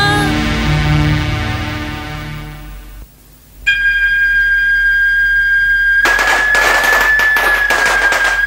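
Firecrackers burst in rapid, crackling volleys for a wedding procession in a traditional Vietnamese cải lương opera scene. They follow sustained musical tones and a high, steady whistle.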